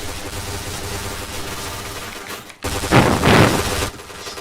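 Bursts of rapid gunfire in the Point Blank online shooter, a dense automatic volley followed by two louder, closer rattling bursts after a brief silent gap.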